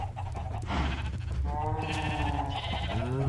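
Several sheep bleat in a wavering, overlapping chorus over a steady low rumble of background sound, loud and close.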